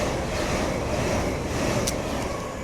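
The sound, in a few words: LNER Azuma train passing through station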